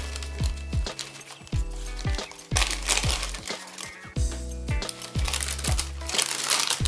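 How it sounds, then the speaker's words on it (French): Red tissue paper crinkles and rustles in bursts as it is handled near the microphone during a beauty box unboxing, over steady background music. "Petit papier de soie rouge."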